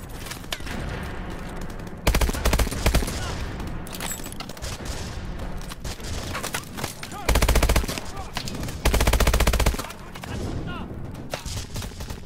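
Gunfire in Call of Duty: Advanced Warfare crackles in repeated bursts, with several louder heavy volleys breaking through steady background battle noise, and a player's voice talks over it at times.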